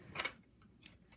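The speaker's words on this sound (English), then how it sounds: "My scissors." Scissors snip through crochet yarn while finishing a loopy flower motif, giving two quick, close, fairly quiet cuts spaced about half a second apart, with no talking.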